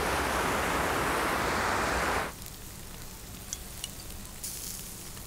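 Wild ayu sweetfish from a river weir trap grilling over a fire, a loud steady crackling sizzle for about two seconds that drops to a faint hiss with a few small pops.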